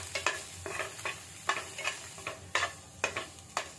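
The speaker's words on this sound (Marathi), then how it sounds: "अर्धा मिनिट आपण मका याच्यामध्ये परतून घ्यायचा" Steamed corn kernels are sautéed and stirred in a pan, giving a steady sizzle broken by a rhythmic series of scraping spatula strokes about every half second, close up, with no voices.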